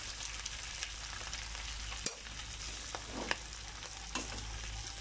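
Adobo sa asin sizzles steadily as it fries in a pan, a continuous crackling hiss with occasional sharper pops and stirring clatters, heard close with no one talking.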